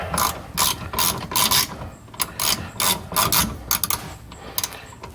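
A ratchet wrench tightens a bolt on a Mazda 6 rear sway bar link in quick bursts of close, crisp clicking. Short pauses separate the strokes, with faint scraping of metal in between.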